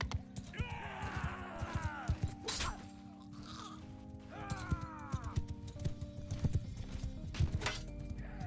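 Horse hooves clip-clopping and a horse neighing in the video game Mount & Blade II: Bannerlord, with two distinct whinnies over steady hoofbeats and scattered clanks of battle, all moderately quiet.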